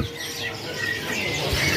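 Small caged birds chirp and tweet at a bird market kiosk in Pasar Burung Pramuka, a dense, steady chatter of overlapping calls with a brief low thump near the end.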